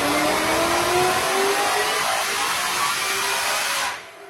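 A Whipple-supercharged engine with a 3.8-litre Gen 5 twin-screw blower, rated at 1300 horsepower, screams high in its rev range. The loud, steady wail climbs gradually and then cuts off abruptly near the end.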